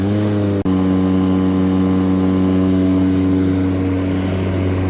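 A Milwaukee M18 battery-powered lawn mower with a heavy steel deck hums steadily and loudly while cutting high grass, its motor tone continuous apart from one brief dropout early on.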